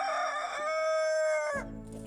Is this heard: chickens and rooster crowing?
yes